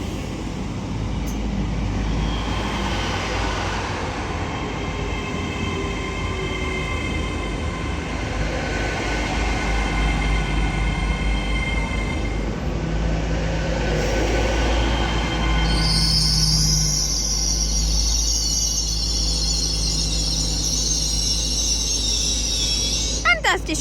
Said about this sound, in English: As this Transpennine Express Class 802 arrives in now